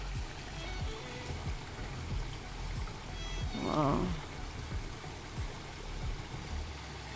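Water trickles from a small roadside mountain fountain, a soft continuous outdoor splash heard faintly and steadily, with one brief excited voice exclaiming midway.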